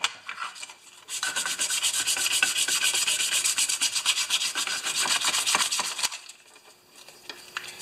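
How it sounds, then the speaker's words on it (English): Sandpaper rubbed by hand over the plastic housing of a Homelite XP1020 string trimmer, a loud close rasping scrub in fast repeated strokes for several seconds, stopping near the end. "Now, we need a little sandpaper to get right in here."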